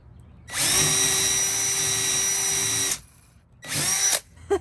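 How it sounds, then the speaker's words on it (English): A power drill with a wood bit bores into wood in a long, loud whining burst, pauses, then runs again briefly, close by during a beehive-building woodworking session. "I like drills."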